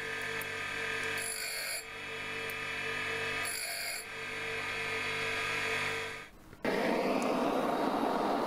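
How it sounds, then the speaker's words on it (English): Saucer wheel on a bench grinder sharpening the cutting face of each tooth on a home-workshop gear cutter, a steady high whining grind with rasping strokes that fade out, then a louder rushing hum. "A saucer wheel on the grinder sharpens the cutting face of each tooth."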